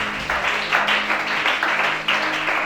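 A church congregation at a worship service in Gabon applauding together: steady, fairly loud clapping with rhythmic pulses, with a faint tone beneath.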